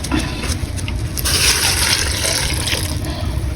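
Coconut milk, the second pressing, is poured into a pot of saba bananas, giving a steady, close liquid splashing and gurgling that swells slightly midway and continues throughout.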